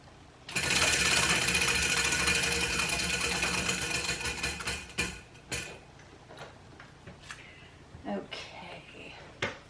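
A prize wheel spun for a random punishment pick ticks in a rapid, loud rattle that gradually slows into separate clicks before coming to rest, followed by a few softer knocks.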